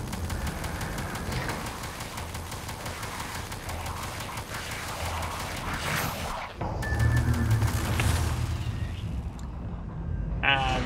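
Automated turret firing in Prey (2017), a steady stream of gunfire under game noise and music, with a heavier burst near the end.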